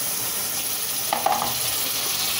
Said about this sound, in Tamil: இப்போ தக்காளி கொஞ்சம் வதக்கிக்கலாம்.